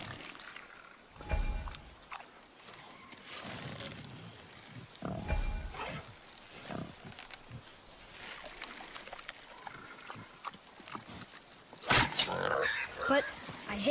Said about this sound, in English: A wild boar's hide is thick.